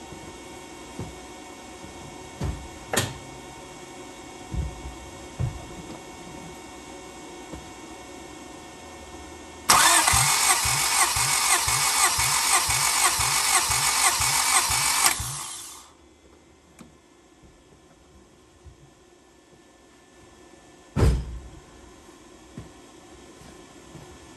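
A 1991 Honda Civic hatchback engine cranks over during a compression test, a loud rapid rhythmic whirring of the starter lasting about six seconds, with scattered clicks and clanks before and after.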